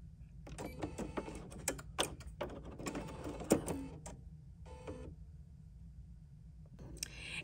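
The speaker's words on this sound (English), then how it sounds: "And now I'm ready to stitch out." A Bernina 790 PRO embroidery machine stitching out a design, a steady close mechanical whir with rapid clicking needle strokes and a few louder knocks, fairly quiet overall.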